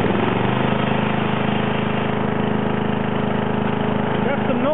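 A John Deere 111 lawn tractor engine runs after a cold start, a loud, steady, rough mid-pitched drone that holds constant throughout with a slight mechanical rattle.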